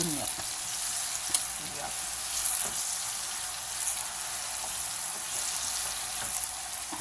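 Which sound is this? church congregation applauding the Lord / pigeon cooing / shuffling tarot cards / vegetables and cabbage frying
vegetables and cabbage frying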